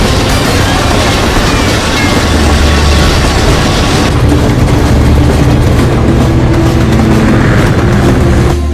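A loud rumbling train in a Roblox game roars along the tracks, with heavy rattling and clattering wheel noise continuing throughout.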